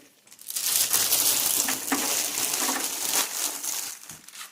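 Plastic film being peeled off a Traxxas Slash 4x4 VXL RC truck body, a loud close crinkling and rustling that runs steadily for several seconds.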